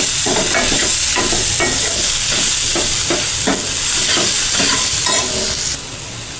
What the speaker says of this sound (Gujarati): તેને સારી રીતે હલાવીને મિક્સ કરી લઈશું.